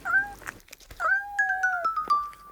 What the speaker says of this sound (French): son chat se lèche tranquillement les pattes